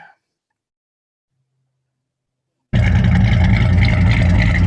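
A black classic car's engine at a car show bursts to life after near silence, then runs loud and throaty with a steady, rumbling idle close by.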